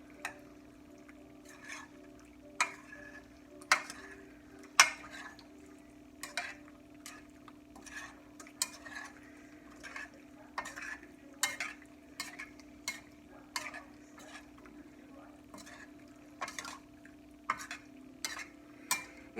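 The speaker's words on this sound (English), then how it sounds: "And give that a stir." Stirring pasta and noodles into a pasta bake mixture in a pot, a steady run of sharp utensil clicks and scrapes against the pot over a constant low hum, fairly close and moderate in level.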